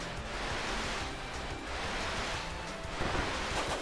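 Kirby surfing on a wave in the Kirby Wii Deluxe demo: a broad whooshing rush of water and surf. It swells and fades in long surges, with a louder splash near the end.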